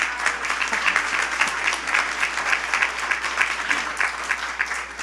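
Audience applause at a Month of May block party, a dense, steady sustained clapping from a sizeable crowd that swells slightly and stays continuous throughout, with no clear cheering voices standing out.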